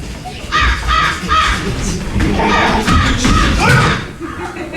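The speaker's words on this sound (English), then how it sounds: "the only birds we have around here are crows" Crows caw harshly around a farm in repeated bursts of rough calls, fairly close and loud, with a few dull thumps mixed in.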